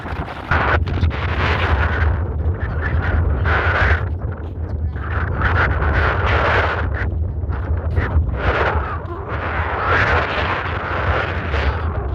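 Steady rumbling buffeting of wind hitting a microphone in an open farm field, loud and continuous throughout with gusty surges, no other sounds standing out.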